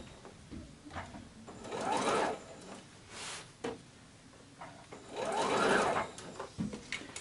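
A sewing machine stitches around a curve on a quilted Christmas tree skirt in two distinct, steady whirring bursts separated by short pauses and faint handling noises.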